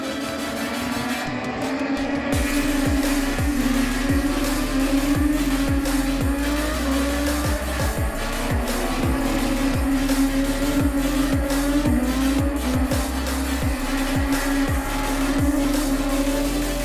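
Moto3 motorcycles racing in qualifying at the Qatar MotoGP circuit, a loud continuous engine whine with rapid repeated gear-shift dips and passes, close and dense, no talk.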